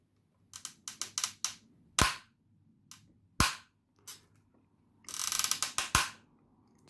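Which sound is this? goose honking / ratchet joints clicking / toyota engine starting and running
ratchet joints clicking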